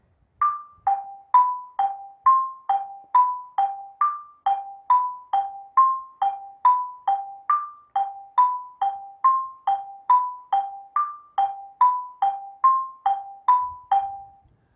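Steady run of about thirty struck notes on an Orff xylophone, a short pattern repeated four times to form a longer melody, each mallet hit clear and quickly decaying, played alone.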